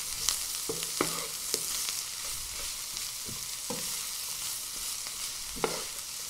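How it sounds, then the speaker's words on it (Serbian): Onion and bell pepper fry together in a pan with a steady, close sizzle, broken by repeated sharp taps and scrapes of a utensil stirring the vegetables. No voices are heard. "Na omekšali luk dodajem papriku i sve zajedno pržim dok i paprika ne omekša."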